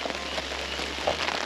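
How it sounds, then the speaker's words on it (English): Gentle rain falls steadily on surfaces around a green tea plantation in Kyoto, a soft even patter with scattered droplet taps and a low background hum. "It's actually like a really nice rain."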